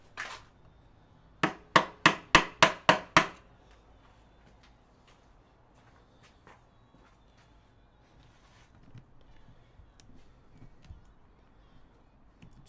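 Hand carving of Maori wood: a quick run of six sharp mallet strikes on a chisel, evenly spaced and loud, followed by scattered faint taps and scraping.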